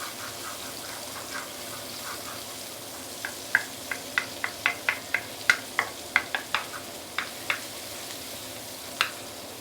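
Wet noodles stir-fried in a wok, with a spatula clacking against the pan in a quick run of sharp, evenly spaced strikes over a faint, steady sizzle. Nobody speaks.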